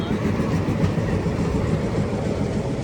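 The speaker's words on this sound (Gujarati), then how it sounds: "જો આ ટ્રેન જાય છે" A passenger train on an Indian railway line rolls past close by, its loud, steady rumble and clatter of wagons continuing throughout, with voices talking underneath.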